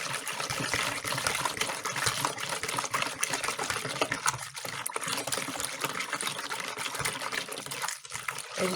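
Lukewarm milk, about 500 ml, poured steadily into a container, a continuous close trickling stream with brief dips near the end.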